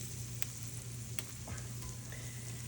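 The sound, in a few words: chicken wings sizzling in oven pan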